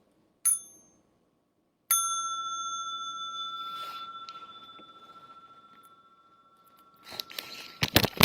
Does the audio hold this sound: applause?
no